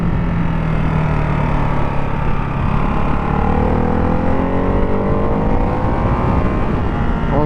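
A Ducati Hypermotard 698 Mono single-cylinder motorcycle being ridden, its engine droning steadily and loud throughout with rising and falling pitch as it accelerates and slows, heavy wind and road noise mixed in.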